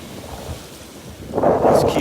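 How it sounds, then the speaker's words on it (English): Strong wind buffets the microphone on a Curacao beach while big ocean waves surge, a rushing rumble that swells louder toward the end. "It is pretty windy. There are some big waves right now"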